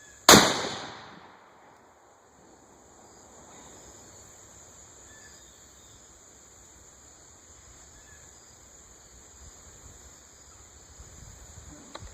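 A single sharp report from a Ruger American Predator rifle in 6.5 Creedmoor, loud and close, fades into a quiet outdoor background with a steady insect hum.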